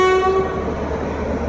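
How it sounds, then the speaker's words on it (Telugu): WAP-7 electric locomotive from the Lalaguda shed at the head of the Visakhapatnam–Secunderabad Garib Rath Express, sounding a loud, steady horn tone at the station that fades into a low, constant rumble. "సో ఇది ఇవాళ మన పవర్ లోకో 39245 లాలాగూడ షెడ్ వ్యాప్ 7."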